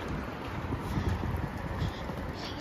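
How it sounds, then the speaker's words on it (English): Strong storm wind gusting outdoors ahead of a storm with 70 mph gusts, a steady, loud, broadband roar with buffeting against the microphone, no voices. "Hear that wind coming?"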